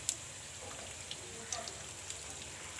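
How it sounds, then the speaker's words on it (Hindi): A samosa fries gently in hot oil with a soft, continuous crackle and occasional pops, close and fairly quiet, with no talk. "ये देखें जी, एक समोसा भी हम डालने लगे हैं, ठीक है। 1 मिनट के लिए उधर से करेंगे फ्राई"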